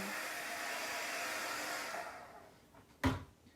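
A hair dryer blows a steady, close whoosh of hot air over a chalk transfer, running alone for about two seconds before switching off, followed by a short knock.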